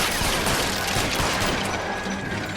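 Rapid, dense gunfire during a video game shootout aimed at a vehicle's driver, a loud continuous fusillade of overlapping shots and crashes with no pauses.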